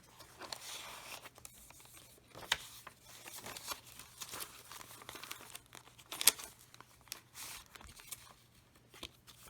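An altered paper bag from a junk journal is handled up close, giving soft, uneven crinkles and rustles in bursts, with a few sharper crackles standing out.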